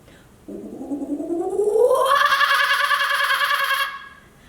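A voice imitates a kookaburra call, starting low, sliding upward, then breaking into a rapid, loud, laughing warble before cutting off.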